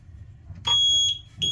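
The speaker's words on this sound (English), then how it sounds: "As soon as this float flips upside down, the alarm goes off." A sump pit high-water alarm from a radon mitigation setup, triggered by its float, sounds two sharp, loud, high-pitched electronic beeps, the first longer than the second, over a quiet low hum.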